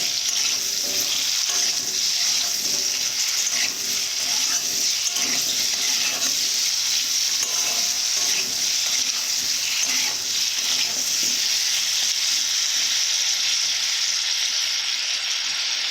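Potatoes fry lightly in oil with turmeric, giving a steady close sizzle with frequent soft stirring and scraping strokes that continue throughout, with no voices.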